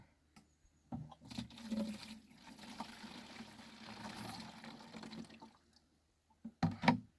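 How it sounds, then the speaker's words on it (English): Pond water pours and splashes from a watering can in a steady stream for several seconds, fairly quiet, followed by a couple of brief knocks at the end. "So I'm giving them a big watering with this stuff."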